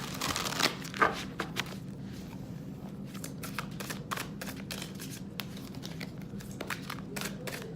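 Soft, rapid card shuffling with papery riffles and light clicks, close by and quiet, repeating in short bursts against a low background hum.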